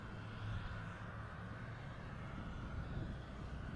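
A JetBlue airliner rumbles at Boston Logan Airport, its engine roar a steady, moderately distant drone mixed with wind buffeting the microphone, with no talk.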